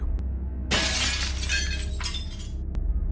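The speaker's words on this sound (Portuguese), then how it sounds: "a pedra voava pelo ar e quebrava a janela do sótão com um estrondo" Glass attic window shattering as a thrown stone strikes it, a loud crash followed by a couple of seconds of tinkling, cascading shards over a low steady background rumble.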